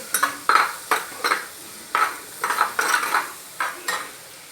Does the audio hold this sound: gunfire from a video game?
no